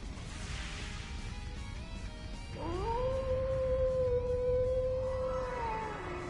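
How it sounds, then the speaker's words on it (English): A wolf howls in the video game Trails into Reverie, a loud sustained tonal cry rising from midway and holding steady over dense game music and battle noise. "Did that howl cancel out the artifact's power?"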